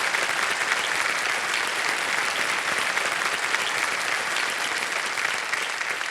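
A studio audience claps steadily and densely throughout, with sustained applause that stays at an even level, on a Kaun Banega Crorepati Season 15 quiz show set.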